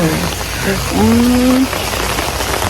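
Heavy rain pours down at a riverside hotel on the Mekong at Khong Chiam, Ubon, with a steady, dense hiss of drops on surfaces; a brief faint voice-like tone rises over it midway.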